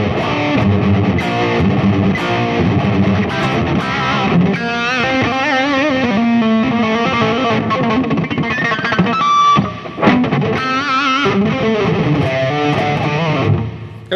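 A heavily modded Chinese Les Paul Supreme electric guitar runs through a distorted patch with lush reverb, playing continuous loud riffs and bending lead lines with long, washy tails, close and dense with no talking.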